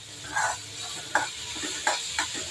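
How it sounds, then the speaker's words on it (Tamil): Curry leaves, green chillies, tomatoes and onions sauté in a pan for idli sambar, making a quiet background sizzle broken by several distinct spoon-stirring clatters at intervals, close up and without speech. "கருவேப்பிலை, 2 பச்சை மிளகாய், 2 தக்காளி, 2 பெரிய வெங்காயம், ஒரு 10 சின்ன வெங்காயம் எல்லாம் வெட்டி வதக்கிட்டு இருக்கேன்"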